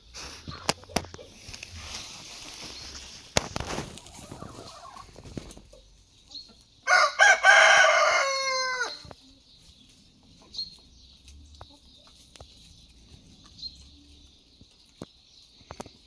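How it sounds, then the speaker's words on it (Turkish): Wyandotte chicken calls come and go over a quiet village yard, with a loud burst of gobbling fowl calls in the middle and softer clucks scattered afterward. "Diğer tavuklarımızı da buraya saldım arkadaşlar."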